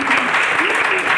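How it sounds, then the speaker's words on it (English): An audience at a property-leadership talk gives a brief, dense burst of clapping, with a voice faintly audible beneath it. "Let's give her a round of applause."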